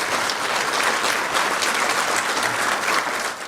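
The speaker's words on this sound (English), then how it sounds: "Let's all first give him a huge round of applause." An audience at a memorial lecture gives a speaker a long, dense round of applause, steady and full for several seconds before it tapers off at the end.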